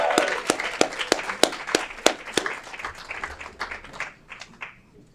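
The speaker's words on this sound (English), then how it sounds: "That deserves another round of applause." Sparse clapping rings out in a city council chamber for a local group, a small scattering of distinct, evenly spaced claps that grows thinner and fades toward the end.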